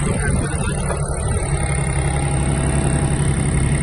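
A Mitsubishi GS-250 mini tractor engine runs steadily and loudly in reverse, a continuous low mechanical rumble with a constant pitch throughout.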